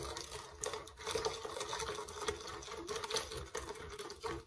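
A whisk clicks and scrapes rapidly against a bowl as boiled milk is poured in a thin stream into a nut-caramel custard mixture, a quiet, busy rhythmic whirring with no voices.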